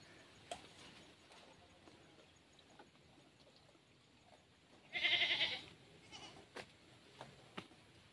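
Goats in a pen bleat once in a short, fairly loud call at mid-clip, over a quiet outdoor farm background with a few faint knocks and distant sounds.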